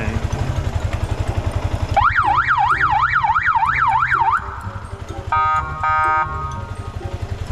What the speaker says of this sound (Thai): เดี๋ยวผมจะให้คุณสมิธโชว์เสียงแตรนะ ว่ารถเขาติด ติดของดี